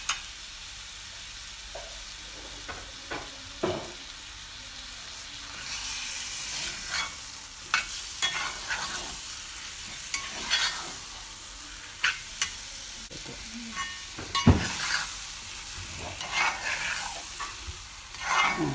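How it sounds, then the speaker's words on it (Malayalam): Marinated chicken frying with onion masala in a pan, stirred often: scraping spoon strokes and clatters keep breaking through a steady close sizzle, with no voices. "ഇനി ഇതിനകത്തേക്ക് നമ്മൾ ആ പുരട്ടി വെച്ചിരിക്കുന്ന ചിക്കൻ, ഇതിനകത്ത് നമ്മൾ ഉള്ളി ചേർത്തിട്ടുണ്ട്,"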